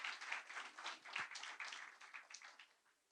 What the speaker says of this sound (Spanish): Yo pensé que usted iba a darle un fuerte aplauso